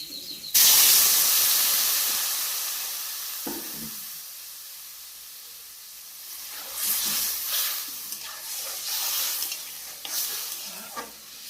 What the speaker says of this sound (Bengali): এখন কিন্তু ভালো করে নেড়ে করে দেব